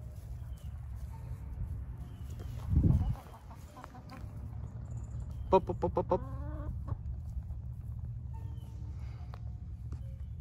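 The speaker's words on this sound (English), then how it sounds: "What you doing, chicken?" A backyard chicken gives a short burst of clucks and a rising squawk, close but fairly soft, with a bump of handling noise and a few words spoken beforehand.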